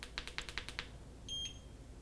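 On an ECOROAD EC6 electric scooter, a quick string of button clicks comes first, followed by a single short electronic beep as cruise control is switched off.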